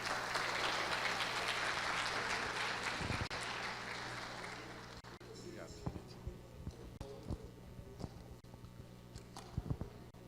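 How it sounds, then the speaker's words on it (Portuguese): An audience at a lecture claps in a dense burst of applause that fades after about five seconds, leaving scattered knocks and small clatters. "Uma salva de palmas para o nosso irmão."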